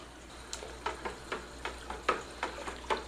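A spoon stirring hydroponic nutrient solution so it dissolves, making a steady rhythmic series of about nine light clinks and taps against the container, quiet and close.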